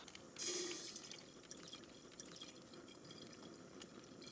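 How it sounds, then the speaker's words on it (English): At a campsite, a soft splash, then a quiet, trickling stream of water running into a cooking pot, faint and close. "So we're gonna get some water in here"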